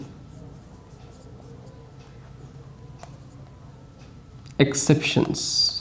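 A marker or chalk is writing on a board during a classroom lesson. After several seconds of quiet room tone, a burst of close, scratchy stroking sounds begins and runs to the end.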